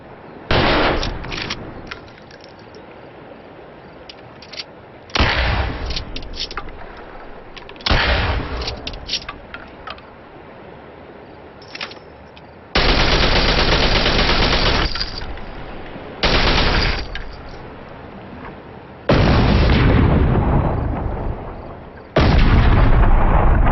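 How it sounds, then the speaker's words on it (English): Gunfire at an indoor shooting range comes in loud, reverberant bursts: several rapid volleys and single shots separated by short quiet gaps, close and harsh. "I recorded the gun sounds I used back in 2007 in an indoor shooting range"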